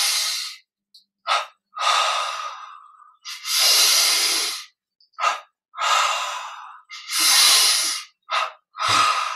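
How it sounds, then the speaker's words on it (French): Deep, slow inhales and exhales during a guided yoga and meditation breathing exercise, close and clear, with long airy breaths separated by short quiet pauses and a few quick sniffing intakes. "pas complètement plié. Inspire."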